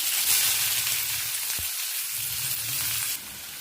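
Sliced big onions sautéing in hot oil with mustard seeds and dried red chillies for a spinach-egg stir-fry: a close, continuous sizzle with a single sharp utensil tap midway, dropping slightly quieter near the end, no voices.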